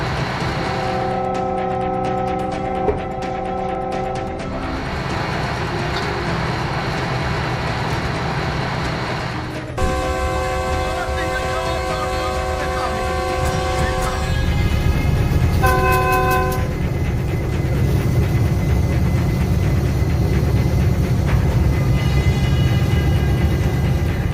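The Tezgam 7-Up Express of Pakistan Railways near Lalamusa sounds its horn in several long, loud blasts, then a brief pair of short toots, over the steady rumble and clatter of the train rolling past close by.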